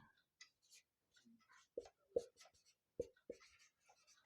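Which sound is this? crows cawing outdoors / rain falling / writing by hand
writing by hand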